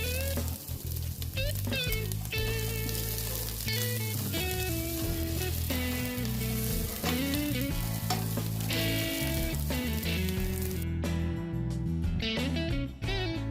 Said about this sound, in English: Fry until the onion and capsicum is cooked.